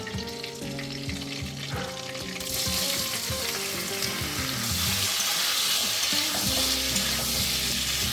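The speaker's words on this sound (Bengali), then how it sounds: "এবার আমি ইঁচড়গুলো সব ভেজে নেব" Young, tender jackfruit pieces fry in a pan for a prawn and jackfruit dish, with a quieter start and faint tones before the sizzle swells loud and steady, broken by stirring noises.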